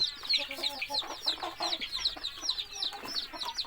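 Chickens cluck in quick, busy bursts, close by and fairly loud, with no talking.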